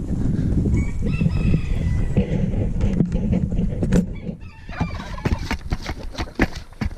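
Chickens cluck and a rooster crows close by at feeding time on a snowy homestead morning, with rustling and clattering noises toward the end; no talking.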